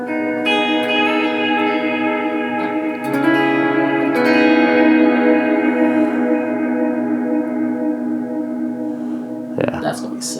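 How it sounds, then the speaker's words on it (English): A sustained guitar chord through a Quad Cortex fly rig swells and rings with a shimmering, wobbling wash of modulated reverb and repeating delay echoes, fading slowly before a brief noise at the end. "So that's got modulated reverb and delay."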